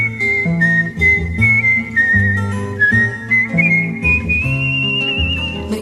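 A girl whistles the melody of a 1964 Italian pop song, a clear sustained tune carried over the band's accompaniment, loud and close throughout.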